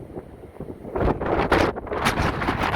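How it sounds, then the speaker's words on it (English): Gusty wind on the Appalachian Trail buffets the microphone with a broad, steady roar that swells after a quiet start, with no voices. "A little windy too."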